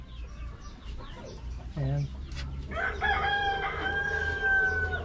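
Hens cluck and a rooster crows in a backyard bamboo chicken coop, the crowing rising clearly over nearby clucking while someone speaks briefly at the start.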